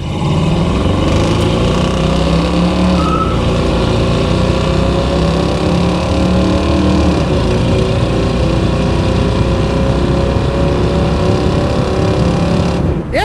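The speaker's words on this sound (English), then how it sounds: "This one with the aftermarket exhaust and the headers, it sounds great." A 1991 Chevrolet 454 SS V8 truck with a loud aftermarket exhaust and headers revs and rumbles as it accelerates up close, tone rising through the gears, with a second-gear tire chirp.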